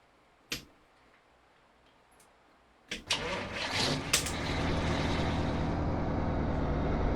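A K100 moving-van truck in American Truck Simulator gives a couple of sharp clicks, then its engine cranks and catches around three seconds in, settling into a loud, steady diesel rumble that holds to the end.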